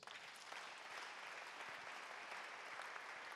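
A church congregation claps and cheers to acclaim Jesus, with steady, dense applause from many hands that fills the room evenly, fairly distant and without a clear spoken voice.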